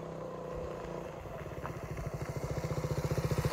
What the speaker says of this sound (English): So yeah, I hear the bike now.